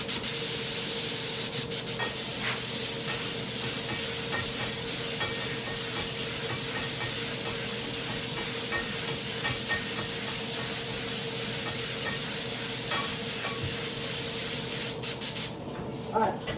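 Spray gun laying a light tack coat of Tamco HC-9500 clear coat, a steady close hiss running continuously and loud with no talk, tapering near the end.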